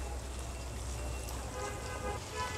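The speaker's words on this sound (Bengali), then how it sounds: "তো তেলের ভিতরে মশলাগুলো একটু ভালোভাবে এটা ভেজে নিব" Spices fry in oil in a pan for a fish curry, giving a soft, steady crackle and spatter like light rain, fairly faint and unbroken.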